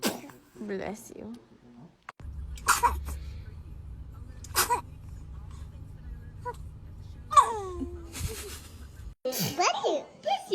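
A baby lets out a few small sneezes among babbling and whimpers, close and quiet, with a low background hum in the middle and adults speaking softly around the sneezes.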